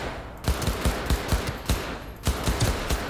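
Rapid gunfire from a hard-to-control gun in Cyberpunk 2077: several close, punchy bursts of shots in quick succession, pausing briefly between volleys, with no talking.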